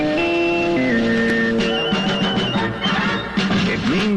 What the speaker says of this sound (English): Our sports signature sounds like this.